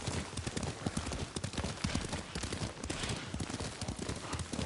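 Rapid, continuous clip-clop of horse hooves at a gallop in the video game Ghost of Tsushima, close and loud over a rushing background, with no talking.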